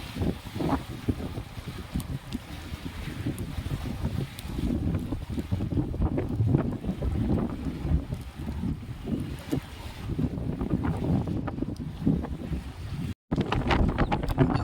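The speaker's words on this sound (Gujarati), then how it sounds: "વરસાદ અને પવન બહુ છે" Strong wind roars steadily outdoors by water where fish are being fed, with heavy gusty buffeting on the microphone and a dense rushing wash that could include rain, loud and continuous throughout.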